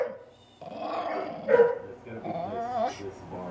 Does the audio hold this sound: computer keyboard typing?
no